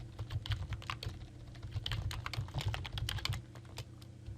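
Fingers type an account name on a computer keyboard, a quick irregular patter of keystrokes, close and fairly quiet, with no one talking.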